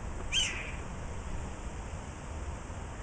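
A Steller's Jay mimics a red-tailed hawk with one short, descending scream early on, then fades into a steady background hiss.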